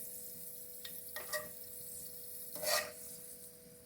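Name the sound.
spoonful of ghee sizzling in pan for pulao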